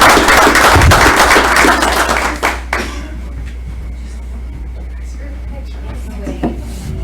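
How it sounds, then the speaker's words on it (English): A room full of people gives a round of applause for a team, dense clapping for about two and a half seconds before it thins out into a quiet hall with faint rustling and a few stray claps. "I just would like to have a round of applause for them for all the work that they've done"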